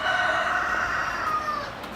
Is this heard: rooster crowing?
yes